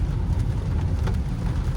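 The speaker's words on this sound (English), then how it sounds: "I was low-key mad that it was raining." Rain patters steadily on a Jaguar F-Pace while it drives, a dense hiss of drops over low road and engine rumble from inside the cabin, continuous and fairly loud.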